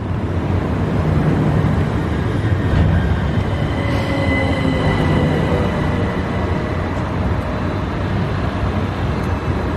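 An eight-coach train to London rumbles steadily throughout, with a continuous roar of wheels on track and faint squeals rising and fading, close and loud, with no voices.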